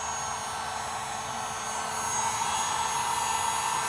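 A heat gun blows hot air onto a part of a Ford Fiesta, a steady close whooshing hiss with an electric motor hum that rises slightly in level midway, heard alone.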